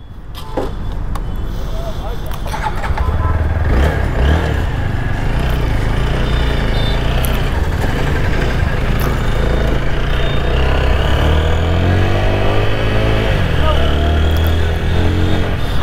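A TVS Apache RTR 160 4V motorcycle engine runs steadily while riding in rain mode, a low rumbling drone with occasional rising revs and passing wind noise, close and continuous.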